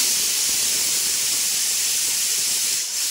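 Steam rushes out of a pressure cooker whistle over whole potatoes boiling, a steady loud hiss held for about three seconds before easing slightly at the end, nearby and without speech.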